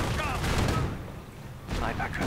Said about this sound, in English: Sticky bombs going off. Sniper opening up as well.